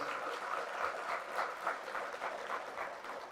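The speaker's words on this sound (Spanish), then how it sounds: "Fuertes aplausos al Rey de Reyes y al Señor de Señores." Audience applause inside a church service, steady dense clapping at a moderate level that continues throughout without a break.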